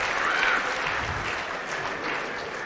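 An indoor pool championship audience applauds a banked shot, a moderate burst of clapping that swells early then settles into steady, slightly thinning applause.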